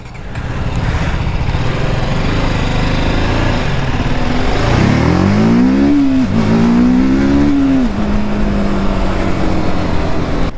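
A TVS Apache RTR 310 motorcycle engine roars loudly while riding, climbing in pitch through repeated revs and gear changes with rising and falling whines, continuous and close.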